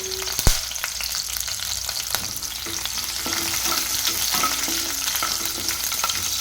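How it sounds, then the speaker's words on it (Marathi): Green chillies and roasted peanuts fry in hot oil in a wok, a continuous crackling sizzle with scattered sharp pops and faint stirring, close and without speech. "कढईमध्ये तेल गरम झाले त्या टाकूया हिरवी मिरची त्यानंतर शेंगदाणे भाजून घेतलेले आहे"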